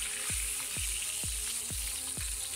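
A large fish deep-fries in shallow oil in a pan, giving a constant close sizzle broken by soft, regular thuds about twice a second.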